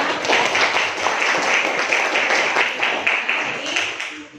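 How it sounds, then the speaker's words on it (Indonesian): Classroom applause from students in a history lesson, a dense burst of clapping that swells and then fades out toward the end. "tepuk tangan untuk semuanya."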